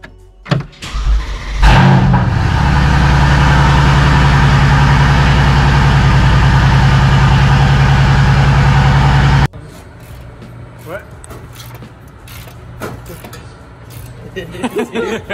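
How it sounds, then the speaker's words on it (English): Mercedes C63 AMG with a straight pipe exhaust fired up cold inside a closed garage: a loud, booming engine start that settles into a steady, deep, resonant idle for about eight seconds, then cuts to quieter background sounds. "this is what a cold start sounds like inside of a closed garage"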